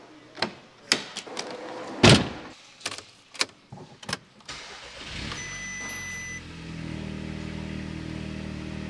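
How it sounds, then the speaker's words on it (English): Several clunks and a door thump, then an Audi S3 engine cranks and catches, settling into a steady idle hum with a faint high whine. "So I've just started the car up."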